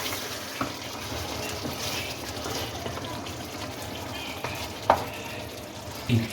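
Masala with slit green chillies, ginger slices and fresh coriander is mixed in a pan for degi balti gosht: continuous soft sizzling with a few sharp spoon knocks and scrapes, no voices.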